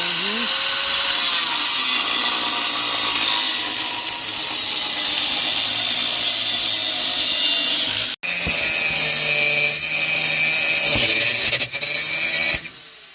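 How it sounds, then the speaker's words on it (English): A power tool grinds and cuts off excess floor sheet metal in a 1982 Ford Mustang, a loud continuous high-pitched whine across the whole clip that breaks off briefly and resumes, with faint talk beneath. "Here's Junior cutting off all our excess metal down here."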